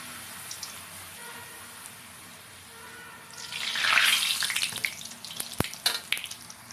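A puri dropped into hot oil for mango juice puri, a quiet hiss building into a bubbling, crackling sizzle that swells midway then settles into sharp pops and spatters, close up with no speech.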